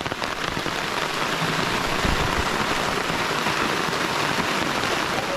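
Heavy rain pours down in a forest, a dense, steady hiss of drops striking leaves and ground that holds at an even loudness throughout, with no voices.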